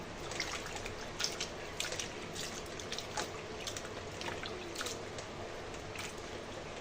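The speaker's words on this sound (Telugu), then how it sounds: "వాటర్లోకి వేసుకొని కడుక్కుందామండి ఇప్పుడు" Quiet splashing and dripping as chopped bitter gourd is rinsed in water, with soft intermittent sloshes and trickles close by.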